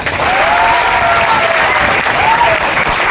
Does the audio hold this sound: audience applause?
yes